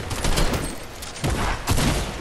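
Fortnite gunfire rattles in quick bursts, a rapid spray of shots that comes and goes in three clusters, moderately loud over a steady game background.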